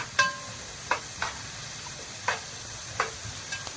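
Garlic and onion stirred in a frying pan for a potato tray bake, with a low background sizzle and a few distinct scrapes of a spoon against the pan at irregular intervals, close by, no voices.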